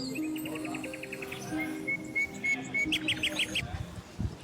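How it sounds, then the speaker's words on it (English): Birds sing outdoors in a steady run of bright, repeated chirps and short trills. Insect-like chirping and soft background noise sit underneath, and no one speaks. "Can you hear the birds singing?"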